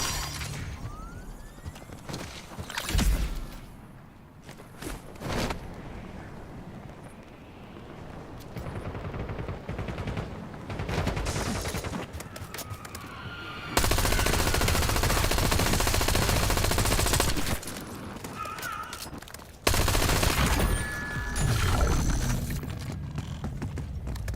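Video game gunfire from guns and a turret bursts repeatedly in rapid volleys with sharp impacts, dense and loud, with louder sustained bursts in the second half.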